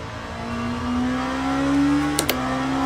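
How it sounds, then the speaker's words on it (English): A steady engine tone from a racing simulator rises slowly in pitch, then a brief high squeak sounds near the end as the accelerator is released and the brake engages, with no talking. "when I let off the accelerator, it does make that squeaky noise when it goes to the brakes"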